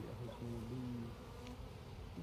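Honey bees hum inside a crowded hive box, a low wavering drone with shifting pitches as insects move about, quiet and close, with a brief higher buzz passing near.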